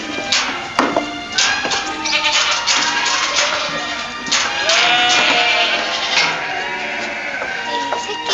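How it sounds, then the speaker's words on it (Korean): Goats mixed in with a flock of sheep bleat repeatedly on a farm, several overlapping wavering calls near and loud, with metallic clanks and people chatting in the background. "양 사이에 염소 있다"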